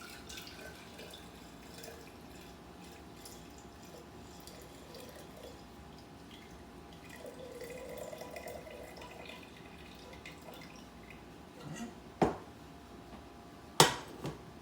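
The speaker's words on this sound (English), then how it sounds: "So I'm just going to pour this gently into the jar" Reishi mushroom tea poured gently from a pan into a jar, a soft, faint trickle of liquid running steadily at low level, with a few sharper clinks near the end.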